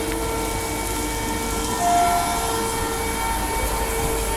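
Last Midland-bound train pulling out of Bayswater Station on platform 2, a steady low rumble of the departing train with a brief tonal squeal or whine midway, continuous and moderately near.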